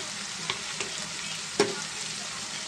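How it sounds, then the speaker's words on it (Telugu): Ginger garlic paste frying with cumin and coriander powder, giving a steady close sizzle with a few light stirring taps of a spoon against the pan. "ఇది కొంచెం పచ్చివాసన పోయేదాకా మనం ఫ్రై చేసుకుందాం"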